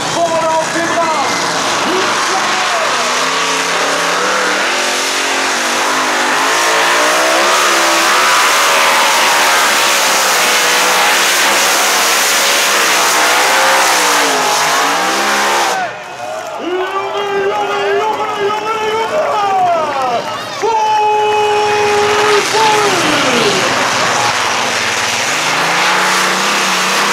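A 2.5-tonne Modified pulling tractor rated at about 4000 horsepower roars loudly and continuously through a 77-metre run at the Füchtorf 2016 German tractor pull, its engine pitch climbing and dipping, with a brief lull and faint crowd noise beneath.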